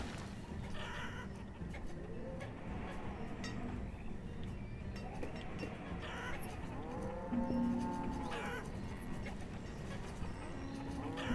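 Cattle in the medieval town-building game Banished moo several times in drawn-out calls, moderately distant, over a steady background of farm ambience.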